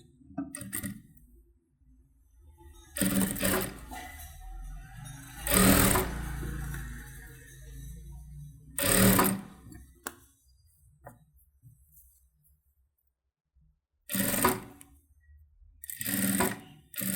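A sewing machine stitches the neck of a saree blouse in bursts of rapid mechanical clatter, each run a couple of seconds long, with quiet pauses and faint handling noises between them.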